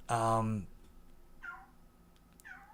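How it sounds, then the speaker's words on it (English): A house cat, just woken, lets out one loud, drawn-out meow up close, followed by two shorter, softer cries, while a person talks quietly in the background. "sounds like one of my cats has woken up"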